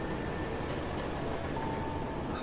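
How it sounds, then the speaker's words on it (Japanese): An oncoming train rolls into a station with a steady, loud rumble and hiss, a faint whining tone running through the noise. "対向列車はほぼ同じタイミングで入ってきましたね"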